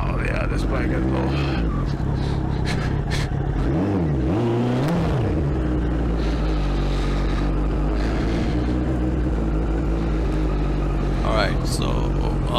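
A turbocharged Suzuki Hayabusa motorcycle running at night, its engine a loud, close, continuous drone with one rising and falling rev swell near the middle, someone talking over it.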